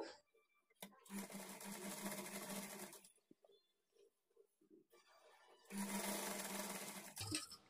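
A sewing machine stitches a blouse in two sustained runs of fast, steady whirring and clatter, separated by a quiet pause with a few soft handling taps.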